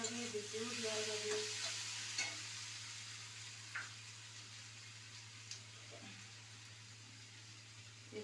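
Ginger paste fries in a hot pan with a soft, steady sizzle, and a few quiet scrapes of stirring come early on over a constant low hum. No one speaks.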